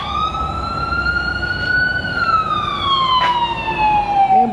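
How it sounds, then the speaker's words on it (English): An ambulance siren wails past outside an auto repair shop in Kissimmee, its rising and falling tone sweeping across the whole stretch and dropping in pitch as it moves away, steady over faint background traffic. "Right off the bat, siren, first thing."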